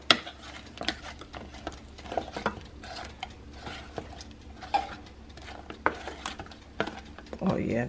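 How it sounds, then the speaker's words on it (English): A utensil stirs crushed red peppers into a dish of roasted corn, scraping and clinking against the pan in repeated close strokes with a faint sizzle underneath, while someone talks briefly. "So we're going to stir this in."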